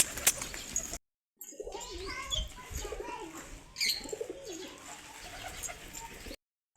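Pigeons coo softly and repeatedly, several birds murmuring close by with a few brief chirps mixed in.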